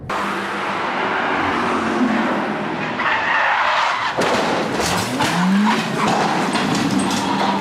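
A Suzuki Swift skids with squealing tires at Spa racetrack, engine roaring, followed by a sudden loud crash impact and continued scraping noise.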